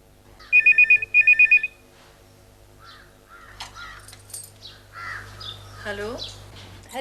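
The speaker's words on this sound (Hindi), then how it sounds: "रोहित का फोन है, लाओ मुझे।" Telephone ringing in two quick bursts of rapid electronic trilling near the start, followed by a quiet pause, then people talking over low background hum.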